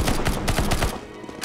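Rapid gunfire in CS:GO zombie escape, a burst of about six quick, loud shots in steady rhythm aimed at a spider, then cutting off into quieter background noise.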